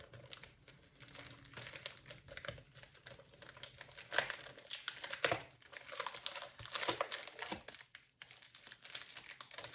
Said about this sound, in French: Il est bien ce papier cadeau, mais il se déchire pas.